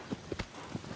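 Horse hooves clip-clop in the video game Shadow of the Colossus, a few soft, uneven hoof knocks over a faint background hiss, quiet and alone.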